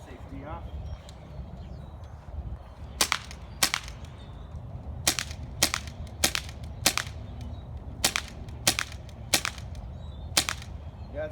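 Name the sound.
airsoft M9 Beretta non-blowback pistol shooting a target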